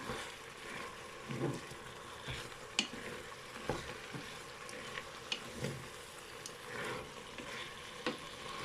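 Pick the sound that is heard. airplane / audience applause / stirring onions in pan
stirring onions in pan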